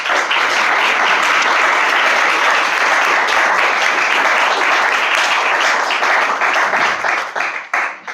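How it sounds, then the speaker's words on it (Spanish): A room full of people applauds the guest authors at a book presentation on mystery and UFO literature, loud, dense and sustained clapping close by that fades out over the final second. "Quiero un aplauso para ellos primero."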